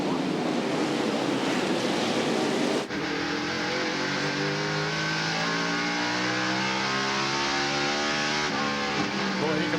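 NASCAR stock cars race around the oval, engines roaring loudly nearby and then sweeping past in a long rising and falling drone, with crowd and wind noise underneath.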